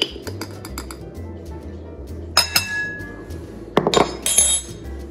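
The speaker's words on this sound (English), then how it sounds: "we'll go ahead and mix the cinnamon in with our brown sugar" A spoon stirs cinnamon into brown sugar in a bowl, making light clinks and ticks and then two louder bursts of ringing clatter close by.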